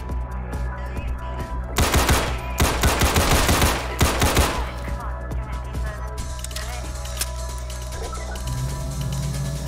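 Rapid bursts of gunfire in Garry's Mod, a fast rattling volley lasting a couple of seconds over steady low background hum, followed by quieter scattered game sounds.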